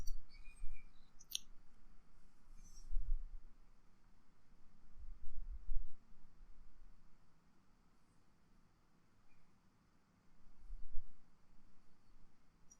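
A few soft, sparse computer mouse clicks in a quiet room while working in 3ds Max, with long quiet gaps between them.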